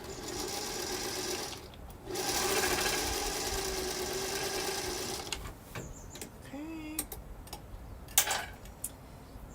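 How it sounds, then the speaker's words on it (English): A sewing machine top stitches fabric, whirring steadily in bursts and then pausing between runs. Faint clicks and handling noises fill the gaps, and the sound is heard at close range. "now I'm top stitching"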